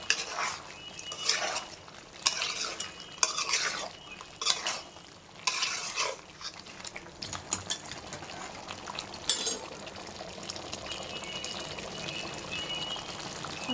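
A spoon stirring chicken fry bagara rice in a pan, with repeated scraping and clinking strokes in irregular bursts over a soft sizzle, close and steady with no talk.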